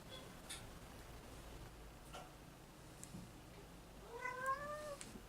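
A single drawn-out cat meow rises near the end over a quiet room background, preceded by a few faint clicks.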